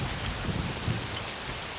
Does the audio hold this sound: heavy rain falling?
yes